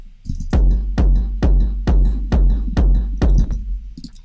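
Three kick drum samples layered together into one heavy hit, repeated about seven times at a steady tempo, each blow booming deep with a crisp attack, loud and close with no speech.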